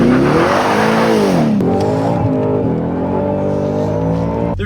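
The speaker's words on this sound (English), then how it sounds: "There's simply no reason that any vehicle with 37-inch tires should be able to break them that loose." A Ford Raptor R truck engine roars and revs hard while its 37-inch tires break loose and spin, a loud, continuous, close-up blast of engine noise with pitch rising and dipping.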